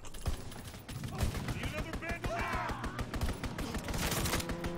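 Video game shotgun and rapid gunfire during an online multiplayer hardpoint match, dense loud repeated blasts over a continuous clatter of battle, with a voice shouting over it.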